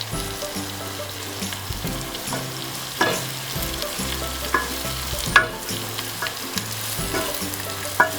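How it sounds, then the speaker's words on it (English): Ukpaka with onions in hot red palm oil sizzles steadily in a pan, a constant frying hiss broken by scattered pops and crackles. "Then I'm adding my Ukpaka to the onions and red oil already on fire."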